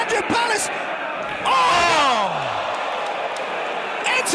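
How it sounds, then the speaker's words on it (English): Wrestling crowd at Alexandra Palace, a loud arena din of voices that swells into a big roar with whoops midway, then settles back to a steady murmur, with a commentator talking over it. "you can hear the crowd here at Alexandra Palace"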